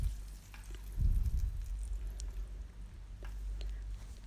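Kumbakonam-style kadappa curry is stirred in a pan, a soft moist sizzle with a brief thicker swirl of stirring near the start, low and close.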